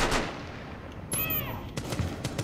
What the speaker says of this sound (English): Someone's shooting me from outside.